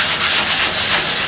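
Sandpaper rubbed over a painting canvas in circular motions during canvas prep, a loud close scratchy rasp that swells and eases in a steady rhythm.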